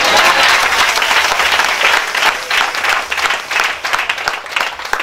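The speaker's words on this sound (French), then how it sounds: "Ça fait une acclamation" A crowd at a religious testimony gathering applauds loudly, the clapping dense and continuous with surges and slight dips throughout.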